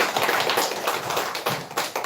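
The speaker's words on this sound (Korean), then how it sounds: "박수하겠습니다" A small church congregation claps together after a birthday cake is cut, a close, brisk burst of hand claps with uneven rhythm and a few louder individual claps, no talking.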